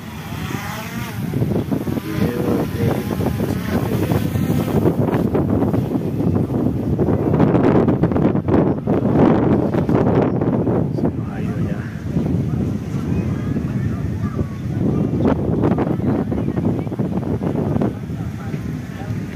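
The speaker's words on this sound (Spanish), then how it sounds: "¿Fuerte el viento o no?" Strong wind buffeting a microphone outdoors in a public plaza, a constant loud low roar with gusty surges throughout, with people talking faintly underneath.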